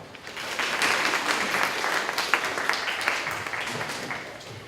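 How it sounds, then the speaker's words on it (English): An audience claps in welcome for visitors at a ceremonial gathering, a full, sustained round of applause with individual claps standing out over the steady wash. "join me in giving them a round of applause"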